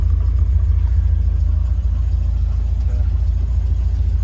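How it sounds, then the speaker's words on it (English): A 1973 MGB Roadster engine idling, a steady low rumbling drone, close and even for the whole stretch, with no talking. "Sits and idles nicely."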